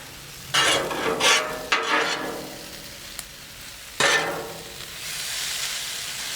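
Yakisoba stir-fry noodles and a splash of water with seasoning powder get tossed and scraped on a Blackstone griddle, sizzling in bursts between spatula sweeps, close by with no voices.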